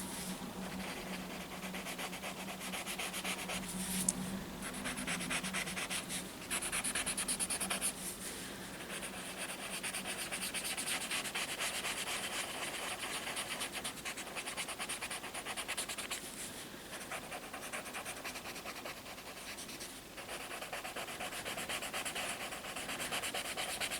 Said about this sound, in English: And I'm trying to move the tortillion in small circle movements.